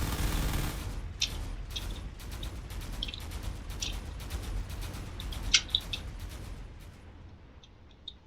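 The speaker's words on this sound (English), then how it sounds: "It appears that the fortress is firing missiles at a distance" Distant missile fire from a fortress in the video game Drone Wars: a rapid, irregular volley of sharp pops and bursts over a steady low rumble, fading toward the end.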